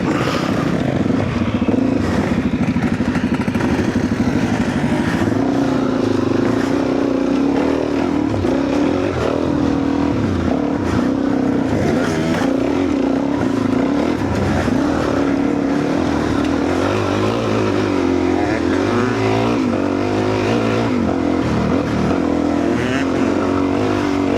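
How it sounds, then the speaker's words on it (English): A 2-stroke motorcycle engine drones loudly and steadily while riding, its buzzing note rising and falling with throttle over wind rush, heard from the saddle behind another 2-stroke bike. "it's nice riding behind a 2-stroke"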